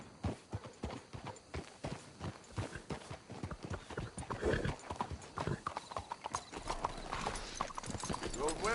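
Horse hooves clip-clop steadily in Red Dead Redemption 2, a rhythmic run of close hoofbeats with a brief whinny, while voices talk over the plodding.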